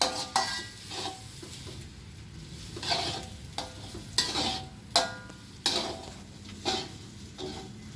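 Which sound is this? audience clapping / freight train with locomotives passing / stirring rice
stirring rice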